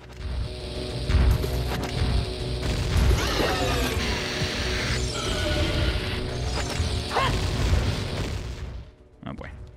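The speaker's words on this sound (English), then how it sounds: "we're just going to drop bombs on the floor" Bombs burst among Dodongos in The Legend of Zelda: Ocarina of Time Master Quest, several thumping blasts with mechanical creaks and rattles, set in a dense, continuous bed of game sound.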